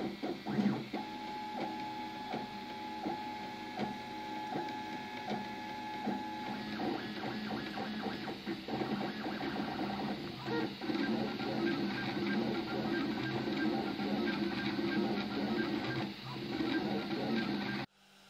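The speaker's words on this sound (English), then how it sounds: "Great. Let's do our test print." A 3D printer lays down a test print in flexible TPU filament, its stepper motors whirring and chirping in rapid changing patterns, steady and moderately quiet throughout, then stopping abruptly at the end.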